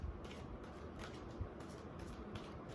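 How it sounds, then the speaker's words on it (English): Soft, close riffling of tarot cards being shuffled, a faint papery rustle with small irregular flicks and no talking. "Let's begin shuffling."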